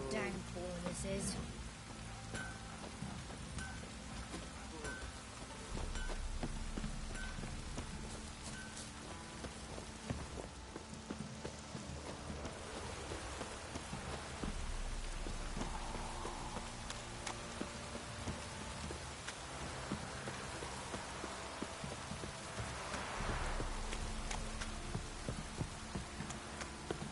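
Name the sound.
heavy rain downpour in video game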